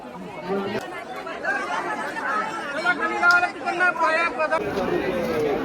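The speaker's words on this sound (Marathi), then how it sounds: "आता अशी गर्दी होत चाललेली आहे." Crowd chatter at a large village jatra, the Mhasa fair at Shri Khamblingeshwar temple in Thane district, with a dense babble of many overlapping voices close by and steady throughout.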